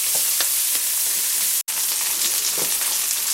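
Onion and garlic fry in a pan with a loud, continuous close sizzle and faint stirring movements. The sound cuts out for an instant midway, and no one speaks.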